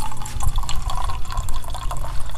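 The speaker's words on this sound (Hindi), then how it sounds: "ये ग्लास को उठा कर पानी डालकर ये देखो" Water from a copper water filter runs into a glass at a homestay, a close, continuous gurgling fill with small splashes throughout.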